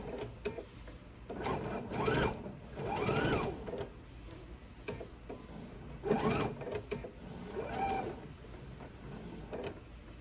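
A sewing machine stitches a reversible bag in several runs of rapid, whirring bursts, rising and falling in speed with short pauses between, close and alone.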